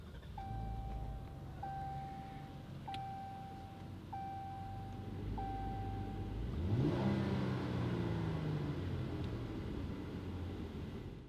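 A 2017 Jeep Cherokee Latitude 4WD starts after a string of repeated chimes, its engine catching and revving once with a rising sweep, then settling into a steady idle, close and fairly loud, with no talking.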